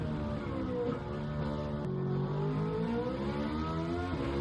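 Italian supercar engine, a 430 Scuderia or Gallardo, revving steadily in a racing video game, with a continuous loud drone of engine harmonics rising and falling slightly, with no speech.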